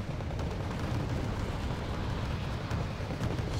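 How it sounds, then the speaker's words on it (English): Bombs and artillery shells exploding in the Wargame Red Dragon strategy game, a dense, sustained roar of blasts and crackling impacts, loud and unbroken throughout. "we got bombs landing right in. Same with artillery, and kaboom."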